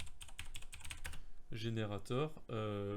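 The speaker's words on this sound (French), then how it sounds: "Donc je tape border radius, générateur" Quick clicking keystrokes on a computer keyboard as a search is typed, a rapid run of taps for about a second and a half, followed by someone talking.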